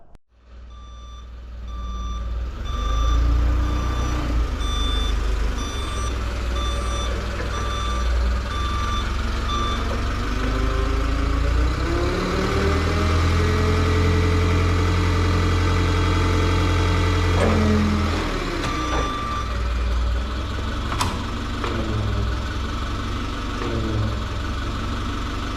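A forklift idles nearby with a steady mid-pitched engine rumble while its reversing alarm beeps in a regular repeating pattern, the engine note rising and falling as it moves.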